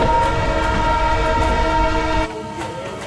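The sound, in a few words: luxury steam train departing, Victoria Falls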